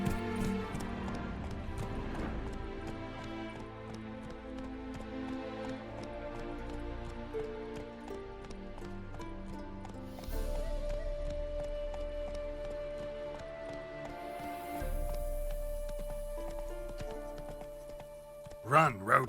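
Rhythmic hoofbeats of Geralt's horse Roach galloping in The Witcher 3, steady clip-clop under a music score, with a brief swell of wind or rain later.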